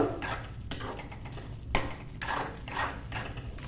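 A spoon scrapes and clinks against a pan while jaggery semiya kesari is stirred, giving soft, steady scraping with a few sharper metallic taps over low background noise.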